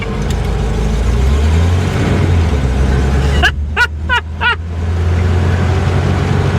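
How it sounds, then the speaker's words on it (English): A 1953 Pontiac Chieftain Straight 8 cruises on the road at about 40 mph. A low, steady engine drone is heard from inside the car, and a brief burst of high squeaky chirps comes midway. "We're going 40 miles an hour in a 1953"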